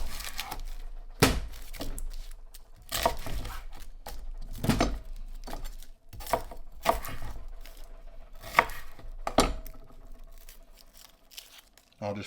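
A knife chops through a quarter of an onion on a board in a home kitchen, a series of close, irregular thunks with soft rustles of the layers between strikes.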